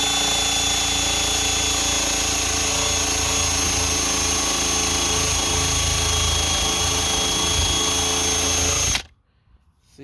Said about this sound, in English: you can put it in your power tool, and as you do it, you can start seeing the glue start to come off.